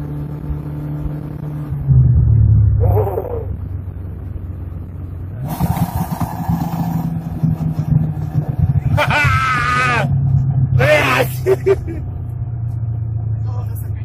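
A turbocharged VAZ 2106 car engine rumbles and revs, building as it accelerates, while people talk over it in several bursts.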